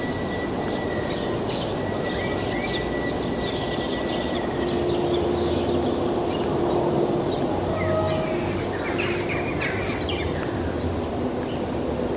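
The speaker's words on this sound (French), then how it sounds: "le bruit des animaux, enfin des oiseaux surtout" Many birds chirp and call over a steady outdoor background hum, with bright, overlapping song phrases throughout, no voices.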